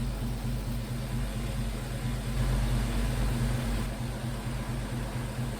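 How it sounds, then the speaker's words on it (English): The AC compressor of a 1956 Chevy pickup runs with a steady low hum and engine drone, heard close and fairly quiet with no talking. "compressor is on"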